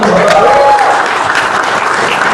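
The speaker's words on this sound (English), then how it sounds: "Let's give them a big round of applause" Audience applause for Indian artisans from across the country at the Swadesh heritage showcase, a dense, loud burst of clapping filling the short stretch, with a brief voice tone near the start.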